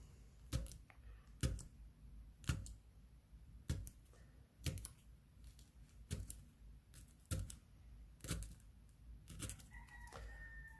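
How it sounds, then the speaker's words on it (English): The pointed end of a paper clip punches holes through paper laid on a potato, about ten sharp separate taps at a slow, fairly even rhythm in a quiet room. "just take your pointy end of your paper clip and just punch some holes along the"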